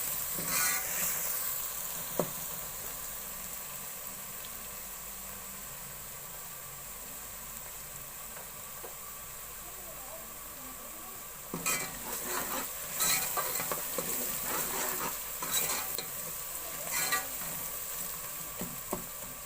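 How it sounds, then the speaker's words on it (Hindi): Garlic fries in a pan while a spoon stirs it, with a steady soft sizzle throughout and louder scraping clatters of the spoon toward the end, no talking. "अब थोड़ी देर लहसुन को भून लेंगे।"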